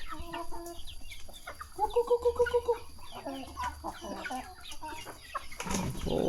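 Chickens clucking close by in a series of short, rhythmic calls, with a quick burst of repeated clucks in the middle and a rustle at the end.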